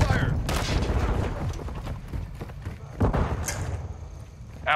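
Call of Duty gunfire crackles in rapid bursts and scattered single shots, mid-distance, mixed with shouted voices and other battle noise.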